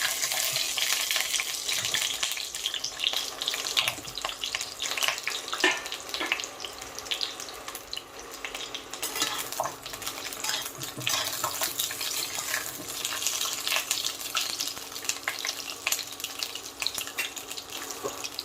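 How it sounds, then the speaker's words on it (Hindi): Stuffed spiced parwal (pointed gourd) frying in oil, with a steady loud sizzle and occasional scraping as the pieces are stirred and turned throughout, no talking. "इन्हें हमें अच्छी तरह से अलट पलट करते हुए हल्का ब्राउन होने तक इसको हमें भून के तैयार करना है"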